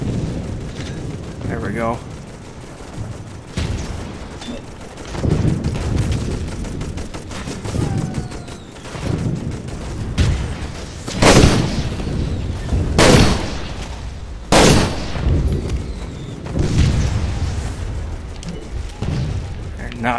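Toy Soldiers battle audio with mortar blasts and bursts of gunfire, several sharp explosions standing out near the middle and late parts, over a steady din of combat with someone talking throughout.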